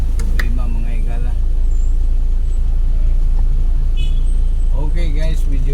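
Road traffic building up with cars and buses, a steady low rumble of engines throughout, a brief air-brake hiss near the start, with someone talking over it.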